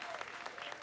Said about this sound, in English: Round of applause for all of our responses, everybody